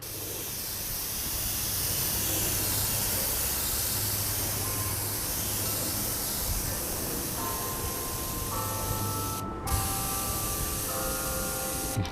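An Iwata airbrush sprays a coat of clear in a steady soft hiss, close and continuous for several seconds, then a brief break and faint tonal whines as spraying continues.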